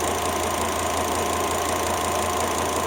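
Volvo XC90 T5 five-cylinder engine idling up close, a steady, even mechanical hum with a faint ticking texture and no speech.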